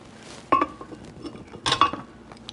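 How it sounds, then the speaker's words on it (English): Ice and then pineapple pieces are dropped into a glass for a drink, giving two separate bursts of clinks and clatter, close and fairly loud, with quieter rattles between them and no talking. "Go ahead and start with your ice. And then we can go ahead and throw our pineapple in there."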